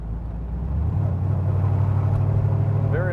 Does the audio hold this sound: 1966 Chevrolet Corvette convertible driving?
yes